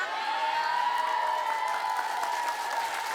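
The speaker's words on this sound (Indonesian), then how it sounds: "Dengar suami anak ditelantarin malah tepuk tangan." A studio audience at a Funtastik comedy show bursts into steady, sustained applause, a dense wash of clapping holding at an even level throughout with scattered cheers mixed in.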